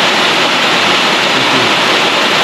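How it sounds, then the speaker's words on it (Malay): Steady outdoor rainfall as a dense, even hiss that stays loud throughout, with no voices. "Hujan pula ni."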